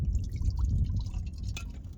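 Room-temperature water pours steadily in a continuous low rushing stream, close by, with a brief splashy burst near the end and no talking, while making flatbread outdoors at a campsite.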